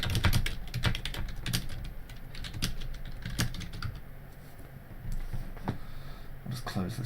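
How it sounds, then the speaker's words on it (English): Rapid clicking of keys on a computer keyboard, typed in quick irregular bursts at close range with a steady faint background hum. "I'm going to type in channel."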